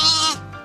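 A pet sheep bleats once, loud and close, a wavering high cry that trails off into a quieter tail, with no talk around it.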